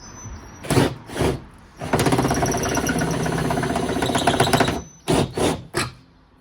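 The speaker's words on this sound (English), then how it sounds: "Okay, an even bigger drill bit now." A larger bit drills through the boot of a Nissan Micra K11, a loud, steady grinding whine for a few seconds, framed by short separate bursts of the drill spinning up before and after.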